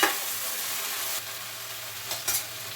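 Okra and tomato curry sizzles steadily in a hot pan, with a few scraping stirs cutting through the continuous frying hiss up close.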